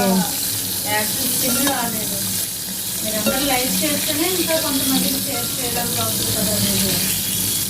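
Steady sizzling of food frying in a pan, for a home-style egg and dried fish curry, continues without a break, with a person talking over it throughout.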